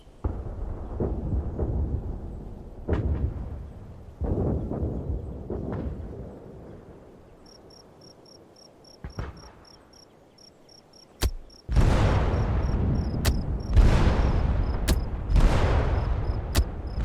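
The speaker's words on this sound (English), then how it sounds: "Now let's use an artillery strike to blast the enemy point before our team advances" Artillery strike explosions in a combat video game: a few sharp blasts land near the middle, then a dense barrage of heavy, rumbling booms rolls on continuously near the end. Quieter game ambience and chirping fill the opening.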